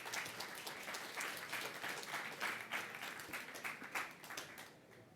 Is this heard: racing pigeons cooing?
no